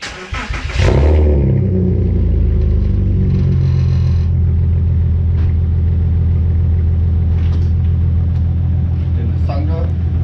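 A Porsche Cayenne 3.2 V6 with a modified, muffler-delete exhaust cranks and fires up loudly nearby, then settles into a deep, steady rumbling idle with small throttle swells.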